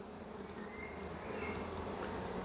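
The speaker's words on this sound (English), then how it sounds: "Oh, there's a baby bee coming out." Steady low hum of bees buzzing inside a hive as a new young bee emerges from its brood cell, a continuous close drone with no talk.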